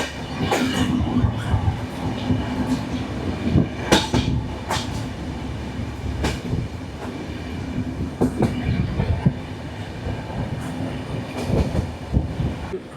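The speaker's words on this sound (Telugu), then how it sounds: "ట్రైన్ ఎలా రౌండ్ సర్కిల్ కొడుతుందో చూడండి" A passenger train on the Araku line rumbles steadily along the rails while rounding a curve, with a continuous roar, faint metallic clatter and occasional squeals, close and loud, with no talking.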